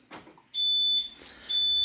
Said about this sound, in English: that's beeping to tell me the window's left open